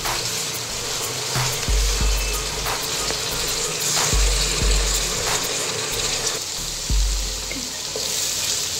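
Onion, ginger and garlic paste frying in oil while being stirred, a continuous bright sizzle broken by repeated scrapes and knocks of a spoon against the pan.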